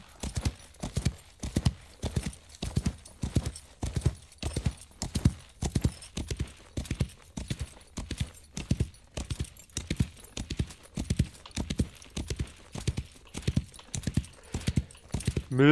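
A horse gallops in the Wild West Online video game, its hooves beating a fast, steady clip-clop rhythm that stays even and close for the whole stretch, with no talking over it.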